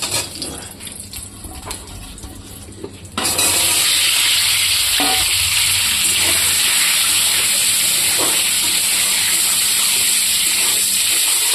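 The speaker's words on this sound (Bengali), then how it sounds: "এখানে কড়াই বসিয়ে দিয়েছি, ডিমটা ভেজে নেব।" Loud, steady sizzling of peeled boiled eggs frying in hot oil in a wok begins abruptly after a few quieter seconds, continuing evenly with faint clinks underneath.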